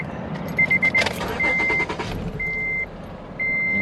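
Acura TL engine idling with a cylinder 6 misfire, a steady low rumble with uneven pulsing, joined by loud intermittent electronic beeps repeating about every second.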